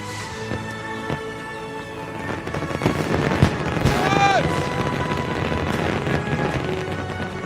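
Fourth of July fireworks finale in the San Juan Islands, a dense stretch of loud booms, crackles and whistling rockets that swells into a continuous roar, with voices mixed in.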